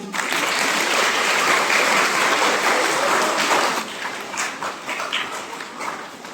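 A crowd at the Saint Monica festival celebration applauds the dancers. The dense, loud clapping holds steady for nearly four seconds, then thins into scattered claps.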